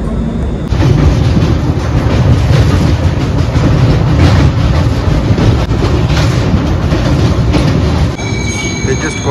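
A Howrah to Puri passenger train rumbles loudly and continuously, with dense wheel clatter and a squeal near the end, heard from on board.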